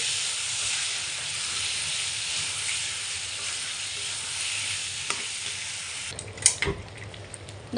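Potatoes sauté in a spiced masala in a pan, giving a steady loud sizzle and hiss throughout, with a few clinks of a utensil near the end.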